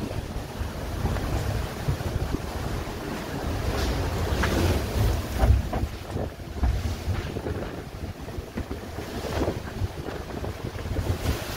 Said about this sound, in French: La déferlante derrière. Montagne d'eau derrière, tout bleu, magnifique.